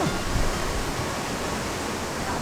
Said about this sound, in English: Rapids